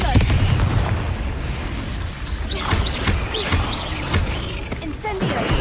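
Confringo fire spells burst repeatedly in Hogwarts Legacy combat, a run of loud booming blasts and crackles with whooshing streaks overhead, mixed with battle noise and a voice shouting spell names.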